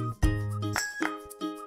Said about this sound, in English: You'll receive subtle vibrations and notifications right on your wrist.